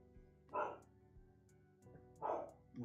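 A dog barks twice, a pair of sharp, fairly close barks about two seconds apart, with a quieter bark starting at the very end, in an otherwise quiet room.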